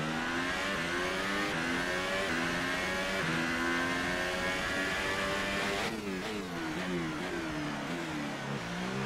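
An F1 car in F1 2018 at the Bahrain Grand Prix brakes and then accelerates hard, its engine pitch sweeping down and climbing through gear changes, loud and continuous with no talk.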